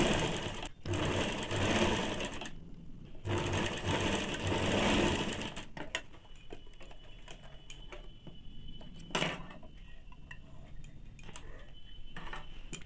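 A sewing machine stitches a half-inch single seam on a baby's panties, a rapid mechanical whir in two bursts, then quieter ticking handling sounds and small clicks as the needle stops.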